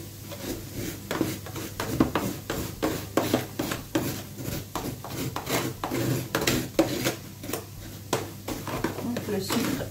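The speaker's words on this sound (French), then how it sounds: "Donc le sucre a séché un petit peu. C'est pas grave, on le gratte." Rhythmic scraping strokes of a spoon working dried sugar loose in a metal sauté pan while making apple puff pastries, steady and close, repeating quickly throughout.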